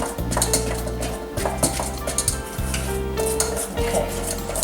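A utensil scraping and knocking against a bowl while mixing a thick confectioners' sugar glaze for a bundt cake, with repeated clinks and stirring strokes at close range.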